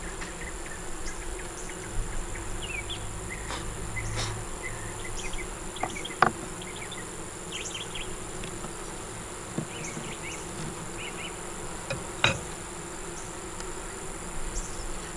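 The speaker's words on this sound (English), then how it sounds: "Little baby bees are jumping on me" Honey bees buzz steadily around an open hive during a hive inspection, a dense, continuous insect hum close to the microphone with occasional louder buzzes flying past and a few small knocks, no talking.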